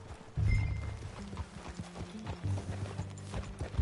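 Horse hooves clip-clop in a steady rhythm during a ride in the video game Red Dead Redemption 2, close and fairly loud, with a brief horse whinny and no talk over it.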